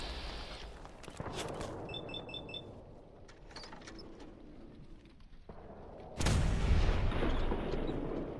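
Gunfire in the Fallout 4 video game, a few sharp shots followed by a loud sustained burst of heavy booming fire near the end, over a faint game background.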